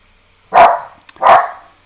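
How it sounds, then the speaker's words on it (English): A dog gives two loud, sharp barks about three-quarters of a second apart, close by, with a small click between them and no talking. "That's Chico barking in the background"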